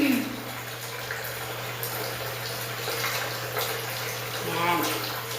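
A bathtub fills with water from a tap turned to the right, giving a steady, hissing rush of running water, with a person speaking faintly over it.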